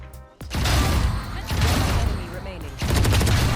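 Ares machine gun in the game Valorant firing long sustained automatic bursts, loud and dense, after a brief quiet start, with a short break and then renewed firing.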